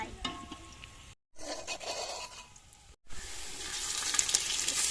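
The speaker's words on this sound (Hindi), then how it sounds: "कर दो फ्राई चिप्स" Potato chips frying in hot oil, a steady crackling sizzle broken by two brief cuts, growing brighter and louder toward the end, close and without talk.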